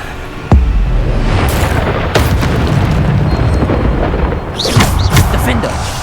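Heavy booming spell blasts from Hogwarts Legacy combat, a deep explosive hit near the start followed by further bursts and crackling magic effects in a dense, loud battle mix, with no speech.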